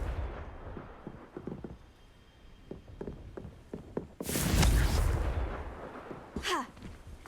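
Confringo blasting spell from Hogwarts Legacy going off in one loud, booming explosion after a stretch of quieter footsteps and thuds, followed by a sharp whooshing burst.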